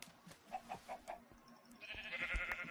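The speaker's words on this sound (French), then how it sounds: "Oh, du poulet!" Chickens in Minecraft give a string of faint, short clucks, about four in a quick row, over a low game background with no talking.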